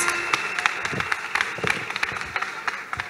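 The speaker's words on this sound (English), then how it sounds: "Applaudissons le Seigneur." A church congregation applauding in a scattered, uneven patter of claps, moderately loud with a light background hum, lasting only a few seconds.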